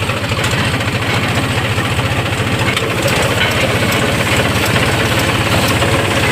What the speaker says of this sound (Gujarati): ચાલુ થઈ ગયું છે ટ્રેક્ટર